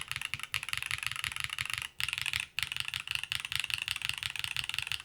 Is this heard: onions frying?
no